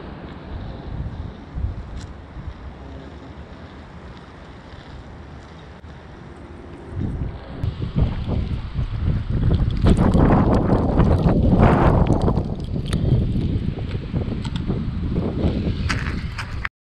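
Wind buffets the microphone on a gravel bike ride in rough, broadband gusts, moderate at first and swelling louder and more turbulent from about seven seconds onward, with no talking.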